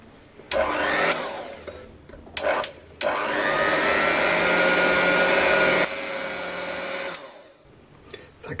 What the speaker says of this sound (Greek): Θα χτυπήσουμε το φυτικό βούτυρο μαζί με το κακάο στην αρχή, σιγά σιγά